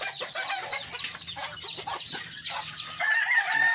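A pushy rooster among hens and chicks makes a busy mix of overlapping clucks and squawks outdoors, continuous and moderately loud, with a higher sustained call near the end.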